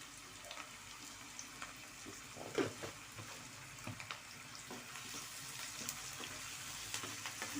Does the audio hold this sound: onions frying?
yes